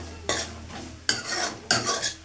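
Fish goes into a hot pan of fried garlic and ginger, bringing three sharp bursts of sizzling and spattering, each with a scrape of a utensil, then a quieter fry between them.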